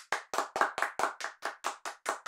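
Parents clap after a story is finished, about a dozen sharp, evenly spaced claps in a brisk rhythm, close and fairly loud, with no voices.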